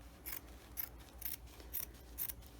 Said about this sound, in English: Probably should have cut along all the fringe